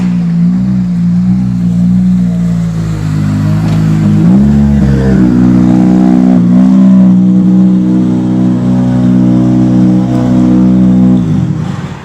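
A Ford Fiesta R5 rally car engine runs loud and close with a turbo, holding a deep steady drone and surging briefly through a rev mid-way before settling and cutting off near the end.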